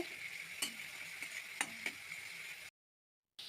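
Rui fish curry masala with sour yogurt is stirred in a pan, a faint, quiet sizzle with a few light clicks of the spoon before the sound cuts out briefly near the end.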